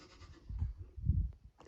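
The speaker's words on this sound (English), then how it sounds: "Easily distracted by goats." Goats bleat in two close, loud bursts nearby, with no talking.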